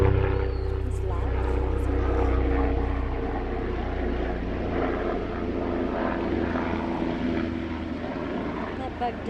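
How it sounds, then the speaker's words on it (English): A helicopter passing overhead outdoors, a loud, steady rotor and engine drone that fills the scene and eases slightly over several seconds, with people talking under it. "So we got a helicopter."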